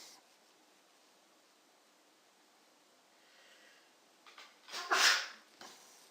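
A single sneeze bursts out near the end after several seconds of quiet room hiss, sharp and fairly close, with no talk around it.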